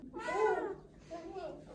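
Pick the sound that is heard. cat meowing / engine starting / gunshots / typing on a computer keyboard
cat meowing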